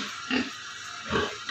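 Pigs on a farm grunt in two short, close oinks, one early and one later, with a quiet pause between them.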